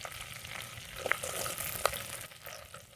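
Crushed garlic and small shallots sizzle steadily in hot oil for a village-style fish curry, a dense continuous crackle with a couple of sharp pops and light stirring clinks, close and fairly quiet.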